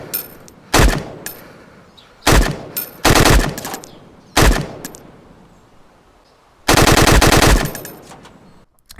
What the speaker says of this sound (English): the M4 is now officially back in, and it has a different sound than what it did before. It sounds a little more meatier.